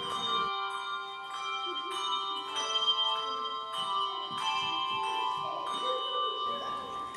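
Church bells rung by a team of eight bell ringers at a church, with sustained overlapping tones ringing steadily throughout, moderately loud with no talk.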